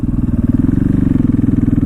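A 2014 KTM 450 XC-W single-cylinder motorcycle in supermoto setup, its engine thumping loudly and closely in a fast, even pulsing rhythm throughout the short stretch.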